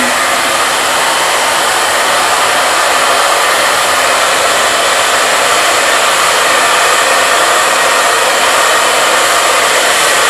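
A hair dryer fitted with a finger-style diffuser blows loudly and steadily on hair, a constant close whooshing roar that runs unbroken and alone for about ten seconds.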